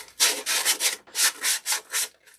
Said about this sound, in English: I really think I want to sand that a little bit